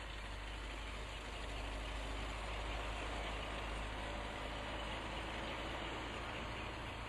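A tractor engine works a field as it cuts furrows, giving a steady, continuous drone at even loudness with no talk throughout.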